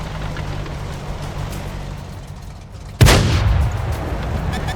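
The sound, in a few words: tank cannon shot in World of Tanks video game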